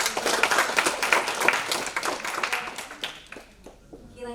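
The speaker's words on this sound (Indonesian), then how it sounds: "mari kita berikan tepuk tangan sekali lagi untuk Ibu" An audience at a corporate sustainability talk claps for someone speaker, with dense clapping that thins and fades near the end while voices murmur underneath.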